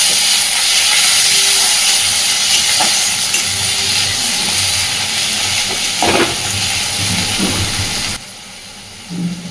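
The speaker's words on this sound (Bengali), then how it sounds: "এবার দিয়ে দেবো আদা রসুন বাটা আর আদা রসুনটা দেওয়ার পরে ততক্ষণ পর্যন্ত কষিয়ে নেব যতক্ষণ না আদা রসুনের কাঁচা গন্ধ চলে যায়" Ginger-garlic paste sizzles loudly with onions in a pan, a broad steady hiss with a few stirring clatters, then the sound drops away sharply near the end.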